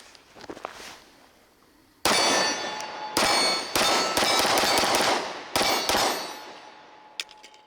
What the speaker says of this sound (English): Let's shoot some more rounds through it.